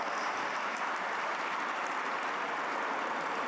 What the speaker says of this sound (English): So let's give John a great round of applause.